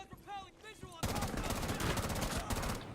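Rapid automatic gunfire from the tactical shooter game Rainbow Six Siege in a star hunting situation, bursting in loud and dense after a brief quiet passage and continuing as sustained volleys.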